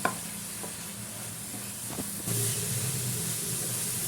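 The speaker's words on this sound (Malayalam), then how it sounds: "നമുക്കിത് നല്ലോണം ഒന്ന് മിക്സ് ചെയ്ത് കൊടുക്കാം കേട്ടോ" A spoon stirs grated coconut and cardamom powder mixed with jaggery in a pan for a sweet ada snack. Soft scraping and a low, faint sizzle continue over a few seconds, with one small knock near the start.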